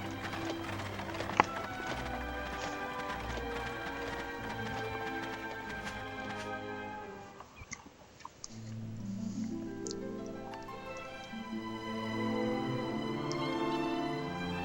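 Horse and cart travelling in the video game Dragon Quest 8, with steady clip-clop hoofbeats under layered game music that shifts partway through, no talking over it.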